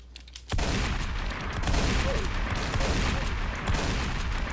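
Shotgun gunfire in the Roblox game Prison Life erupts after a short quiet start, becoming a loud, dense, sustained barrage of shots that fills the rest of the stretch with no voices.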